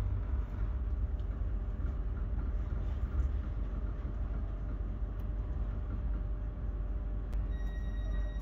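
A Great Western Railway passenger train runs between Cornwall stations on the Cardiff Central–Penzance line, heard from inside as a steady low rumble and rolling drone with faint clicks, no talk.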